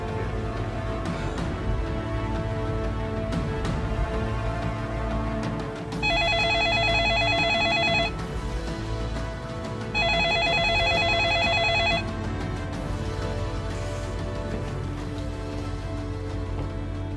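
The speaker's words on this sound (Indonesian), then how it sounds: "Saya akan telepon Pak Kamal besok, ya." A telephone ringback tone sounds on an outgoing call, two evenly spaced two-second rings over a steady background of droning ambience and low tones.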